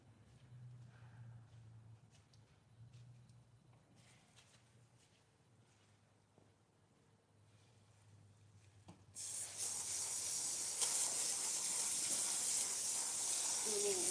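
A water spray rinses a muddy lawn tractor wheel, starting abruptly after a quiet stretch of faint handling noise and continuing as a steady loud hiss.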